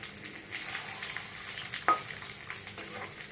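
Chili, whole cumin and bay leaves sizzle and fry steadily in hot oil while being stirred, a continuous close crackle with a brief louder scrape of the spoon partway through.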